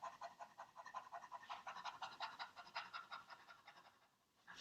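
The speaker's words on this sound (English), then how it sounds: "So you're going to feel the panting down here." A singer pants rapidly as a vocal exercise after a big inhale, a quick even run of short breathy puffs, close but quiet, trailing off near the end.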